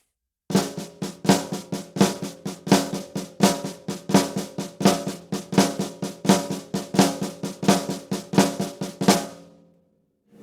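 Flam accent triplets on a snare drum, a fast, even stream of crisp strokes in a rolling three-note pattern, close and loud with no voices, ending with a short ring-out.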